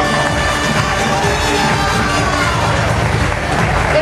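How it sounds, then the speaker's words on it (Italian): An outdoor crowd at the Miss MOAC 2012 beauty pageant at Sanremo's flower market claps and cheers steadily, a loud, dense wash of applause and voices with no pauses. "accompagniamole con un applauso al pubblico del Moac"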